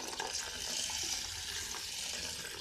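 Water poured into a bowl of split green gram, a quiet, steady trickling splash lasting a couple of seconds, with no voices.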